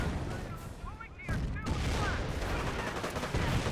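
Dense gunfire and artillery crackle without pause in a Company of Heroes 1 match between US forces and Panzer Elite, forming a loud continuous battle din with brief radio-style voices mixed into it.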